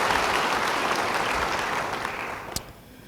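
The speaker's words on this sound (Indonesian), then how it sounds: "Beri tepuk tangan bagi dia." Church congregation clapping during a sermon, a full burst of applause that gradually fades out, with one sharp clap or knock standing out near the end.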